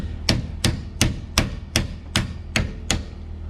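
A hand hammer strikes metal eight times at a steady, even pace, each blow sharp and loud with a short ringing decay, and no talking.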